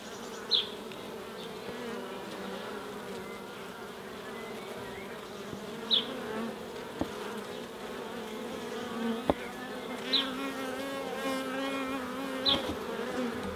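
Honeybees drone steadily around an open hive, a continuous close buzz with a few brief louder passes of individual bees, no voices.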